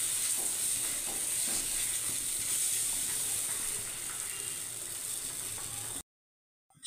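Gola ruti batter fries in oil in a pan, giving a steady, close, bright sizzle that fills the clip and then cuts off abruptly near the end.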